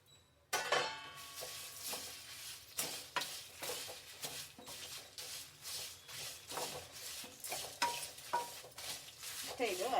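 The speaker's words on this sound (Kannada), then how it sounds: "ಎಲ್ಲ ಸೇರಿಸ್ಬಿಟ್ಟು ಒಂದು ಸಲ ಬಿಸಿ ಮಾಡಿಬಿಡೋಣ" Spices for bisibele bath powder are dry-roasted and stirred in a pan, giving a quiet, steady scraping and rustling with rhythmic strokes of the spoon throughout.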